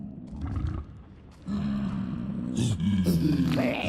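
A hoglin in the Minecraft Nether, played in the ATM 9 modpack, growls and snorts in several rough, close bursts that grow louder toward the end.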